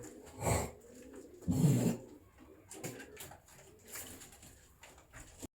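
Pigeons coo nearby in a few soft, low bursts with quiet pauses between them, close and fairly faint, with no talking.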